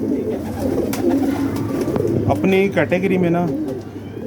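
A pigeon coos softly under a man's speech in Hindi/Urdu, its low murmuring calls mixed with other nearby bird sounds.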